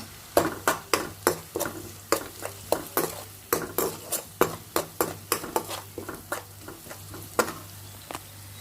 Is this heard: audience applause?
no